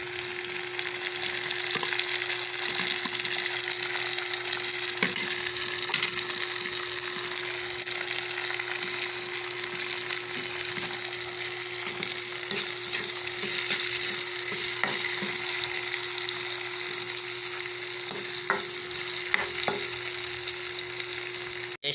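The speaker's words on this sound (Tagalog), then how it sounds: "Guys, naigisa na natin yung kamatis." Tomatoes sauté in a hot pan for mussel dish prep, a steady bright sizzle running throughout with scattered scrapes and stirring clicks, close and continuous without talk.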